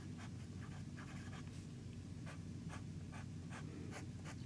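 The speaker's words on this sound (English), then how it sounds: "You hear that feedback, but it's a very nice pencil-like feedback that I really enjoy." A medium steel nib on a Montegrappa Lord of the Rings fountain pen scratches across paper in short, repeated strokes, a dry, pencil-like scratch over a steady low background hum, heard up close with no talking.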